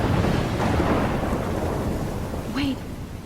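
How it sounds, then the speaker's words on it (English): Thunderstorm with heavy rain in the game Life is Strange: loud, continuous rainfall under a deep, rolling rumble of thunder, with a brief higher sweep near the end. "I'm trapped in a storm?"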